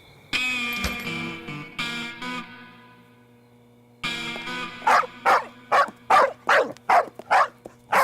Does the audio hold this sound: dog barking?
yes